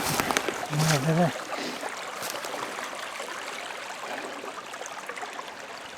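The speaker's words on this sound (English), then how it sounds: "Sounds like a river running down there." A river runs somewhere below, giving an even, rushing murmur that carries on steadily after a brief voice-like sound at the start.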